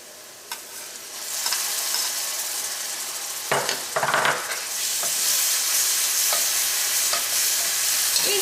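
Ginger garlic paste sizzles and fries in hot oil while being stirred for a spicy chicken curry, a steady bright hiss with a few clinks and scrapes of the spoon partway through.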